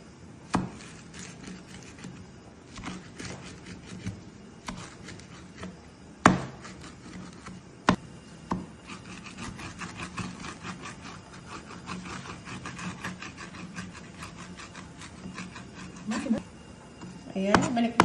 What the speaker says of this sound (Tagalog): Kung paano hiwain itong fresh molokhia.